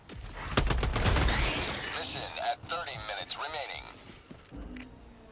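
Full-auto bursts from the SMG-37 Defender submachine gun in Helldivers 2, a dense rapid volley up close at the start, then scattered combat noise and whooshing effects with talk over it.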